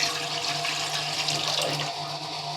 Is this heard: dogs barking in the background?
no